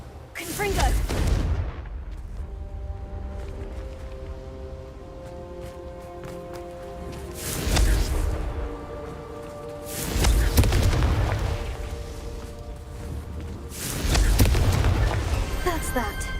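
Confringo explosion spells in Hogwarts Legacy: several booming blasts land a few seconds apart, each with a loud low thump and a crackling burst, over a steady game ambience.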